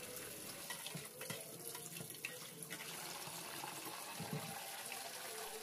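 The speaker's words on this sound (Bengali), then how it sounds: "তেলটা ভালো করে 5-6 বার জল দিয়ে ধুয়ে" Running tap water splashing steadily over catla fish fat as it is rinsed in a sink, a continuous close gush with small irregular splashes and clinks throughout.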